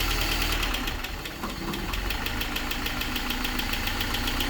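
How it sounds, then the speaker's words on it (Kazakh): A Mercedes M102 engine idles after head gasket work, a fast metallic ticking from the hydraulic lifters riding over a steady close engine drone, with no talk. "Кішкене гидрокомпенсаттың дауысы бар, қазір кетеді ғой"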